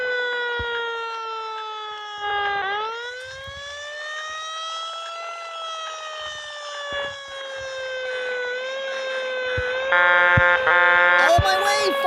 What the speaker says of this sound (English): Get our sirens ready. Sound the horn.